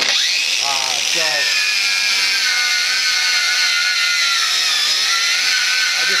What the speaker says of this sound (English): the reason I wire wheel as much as I can is because when you grind, you take a lot of the metal off